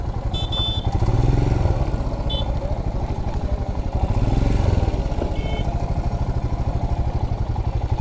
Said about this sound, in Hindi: भाई इसने तो देखो कहाँ से बाइक चलानी पड़ रही है।